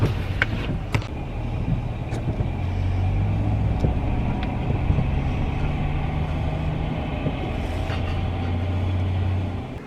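A 2007 MCI E4500 coach bus idles steadily after a cold start, a low rumbling diesel drone holding constant with a few faint clicks and knocks around it.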